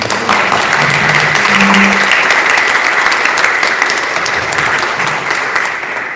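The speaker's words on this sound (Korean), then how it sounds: "위해서 뜨거운 박수 보내주세요" A large audience at a lecture claps loudly and continuously, a thick wash of applause that holds steady before tapering slightly at the end.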